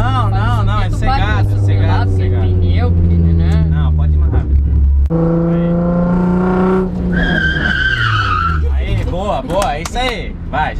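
A Nissan 350Z drifts around a cone during a practice session, its engine revving and droning with rising and falling pitch and tires squealing, close and loud throughout, while people talk in the car.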